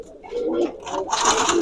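Giribaj pigeons coo in low, throaty bursts on a busy farm. The calls are close and fairly loud and are mixed with rustling and brief voices.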